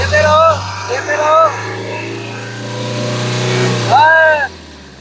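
A Tata Altroz BS6 diesel engine with a low-pickup fault is revved: a steady mid-pitched engine drone that swells and eases, running beneath a man's nearby speech throughout.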